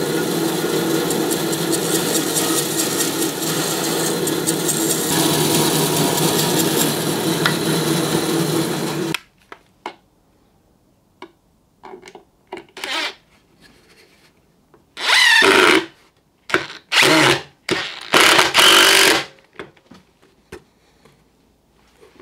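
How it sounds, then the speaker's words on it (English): A bandsaw fitted with a coarse blade cuts a notch in a part, giving a loud continuous rasping cut for about nine seconds, followed by short bursts of cutting and handling noise. "we're gonna notch it out on the bandsaw, which has got a nice coarse blade on"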